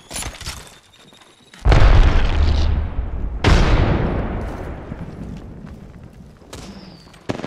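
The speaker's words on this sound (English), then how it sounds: "Grenade!" Grenade blasts in a video game, two loud booming explosions a couple of seconds apart, each with a long decaying rumble, followed by a sharp crack near the end, over quieter game effects.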